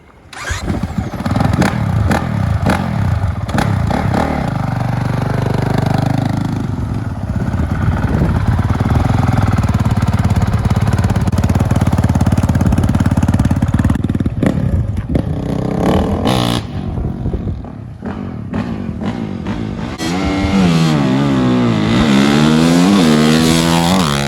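A quad ATV engine roars loud and continuous on a test ride, with throttle rising and falling and a wavering, revving pitch near the end.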